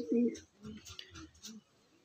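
A Madras pigeon gives a short, close coo at the start, then someone speaks while softer bird sounds carry on faintly behind him.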